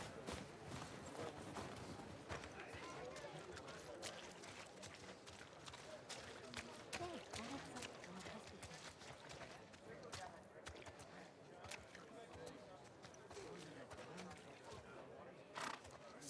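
Horse hooves in The Last of Us Part II, a steady clip-clop of footfalls running throughout at moderate distance, mixed with faint rustling and occasional sharper knocks while people talk quietly in the background.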